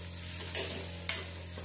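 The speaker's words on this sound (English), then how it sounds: "by the time I'm frying my tomatoes, I'm frying some fish as well" Steady sizzling of tomatoes and fish frying in a pan, with two brief bursts of louder hissing as it is stirred.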